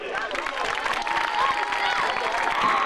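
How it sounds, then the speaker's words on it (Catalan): A crowd at a 1988 girls' school sports prize ceremony in La Safor applauds in a steady, dense wash for a winning athlete, with voices and amplified sound running underneath. "Un aplaudiment."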